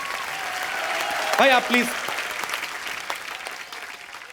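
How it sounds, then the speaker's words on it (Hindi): Studio audience on an Indian TV comedy talk show applauds steadily throughout, a dense wash of clapping with a voice speaking over it. "एक बार जोरदार तालियां हो जाए"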